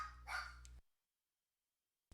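A pet dog gives one short bark, close and loud, then the sound cuts out to silence.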